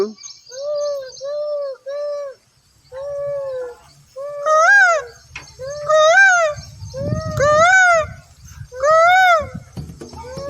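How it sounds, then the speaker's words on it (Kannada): A bird sings loud, clear repeated whistling phrases that grow stronger and more elaborate, with low rustling and faint background noise in places. "ಮರದಲ್ಲಿ ಒಂದು ಕೋಗಿಲೆ ಹಾಡುತ್ತಿತ್ತು."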